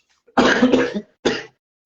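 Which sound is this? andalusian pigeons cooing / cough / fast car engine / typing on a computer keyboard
cough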